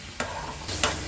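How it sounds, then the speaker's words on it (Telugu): Spices for tempering tamarind rice (pulihora) crackle and sizzle in hot oil in a pan, a steady frying hiss broken by two sharp bursts of spattering, close and alone. "పులిహోర కోసం పోపు"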